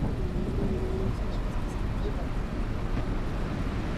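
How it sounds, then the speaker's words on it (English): A thunderstorm plays out in a bus-driving video game. A heavy, continuous low rumble of thunder and rain fills the whole stretch evenly. "We're going to get a full-blown thunderstorm."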